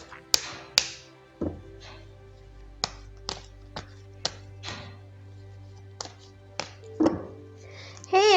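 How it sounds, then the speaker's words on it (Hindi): Tarot cards shuffled by hand, a series of sharp separate taps and flicks spaced about a second apart, close and clear over a low steady hum, with a few brief voice sounds. "तो चलिए पहले ज़रा कार्ड्स को शफल कर लेते हैं।"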